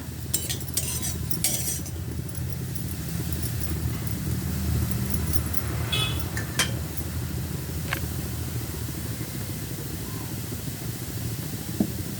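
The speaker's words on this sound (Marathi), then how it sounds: "बघा, अशा प्रकारे मुळा भाजून घ्यायचा 1 मिनिटभर।" Grated radish roasting in a pan, with a continuous dense sizzle under repeated stirring and the scrape and clink of a metal spoon against the pan, close up.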